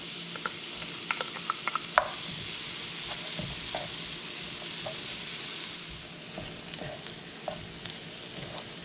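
Chopped onion frying in melted regular butter in a pan, a steady close sizzle and hiss with scattered pops and crackles and a few stirring scrapes, no voices.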